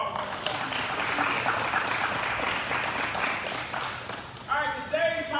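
Moderate applause from an audience at a social media talk, even clapping that fades before a voice begins speaking near the end.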